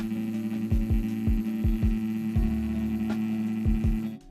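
A tattoo machine fitted with a thin round liner needle, run at reduced voltage, drones with a steady electric hum, while a series of soft rhythmic thumps comes and goes over it.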